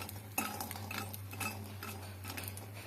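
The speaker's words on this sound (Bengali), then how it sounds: "গ্যাসটা মিডিয়ামে দিয়ে আস্তে আস্তে বড়িগুলো ভাজতে হবে।" Lentil dumplings (bori) fry in a pan over a medium gas flame, with a utensil stirring and lightly clinking against the pan in a quiet, close scraping rhythm over a low steady hum.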